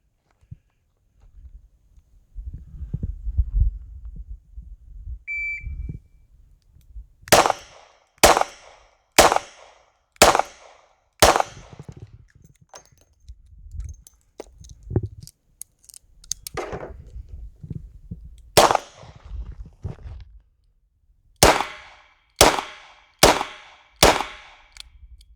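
A Smith & Wesson 642 snub-nosed revolver fires qualification rounds at a range. Two strings of about six sharp, cracking shots are spaced roughly a second apart, with a long pause of quieter handling noise between the strings.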